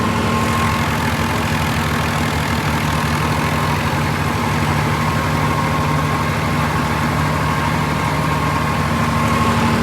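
A Swaraj 969 CRDi tractor runs under load pulling a 9 ft super seeder, its engine a loud, continuous deep drone with steady vibration, close and without talk.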